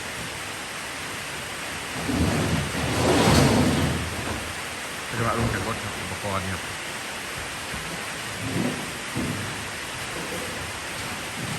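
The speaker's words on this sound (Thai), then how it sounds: "วันนี้ฝนตกแรงครับฝนตกแรงวันนี้" Heavy rain pours steadily as a continuous broadband roar, with a few low rumbles, while someone talks over it at intervals.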